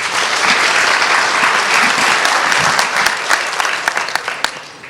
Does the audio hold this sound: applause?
yes